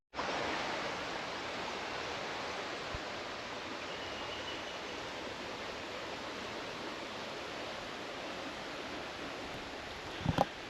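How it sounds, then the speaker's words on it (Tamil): River water flowing over rocks at Ariharanathi Falls near Kottakulam, Tenkasi, a dense steady rushing wash heard close and unbroken for the whole stretch, with a couple of faint knocks near the end. "நடுவில் தண்ணி போகுது."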